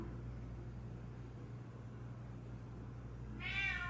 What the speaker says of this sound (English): I have a Bengal and he's so loud